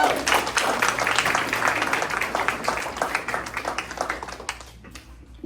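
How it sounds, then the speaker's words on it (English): Parents in a school meeting room at Parks Junior High applaud the principal, a full crowd of hands clapping at moderate volume that thins out and fades over about five seconds, with faint voices underneath. "Give her a round of applause for Robin."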